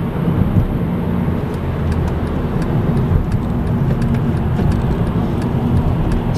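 A manual-transmission car engine held high against a 7,000 RPM rev limiter, a loud, sustained engine roar with faint repeated ticking cuts running through it, heard close and without talk.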